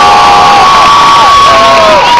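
Loud crowd at a cosplay contest and concert in Guatemala cheering and shouting with whoops and high voices, a dense unbroken roar that fills the whole stretch.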